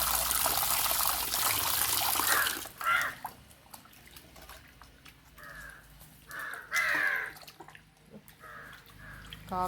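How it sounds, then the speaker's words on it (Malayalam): Crows caw in loud, hoarse bursts in the open air outside a home kitchen, several separate calls over the clip, with water trickling and dripping underneath. "കാക്കക്കുട്ടന്മാരൊക്കെ വന്നിട്ടുണ്ട്."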